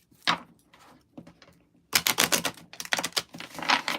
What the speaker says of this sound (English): Don't mind my shuffling.